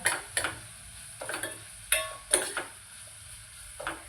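Softened onion and tomato being sautéed in oil give a quiet background sizzle, punctuated by about eight rhythmic scraping stirs of a spoon against the pan.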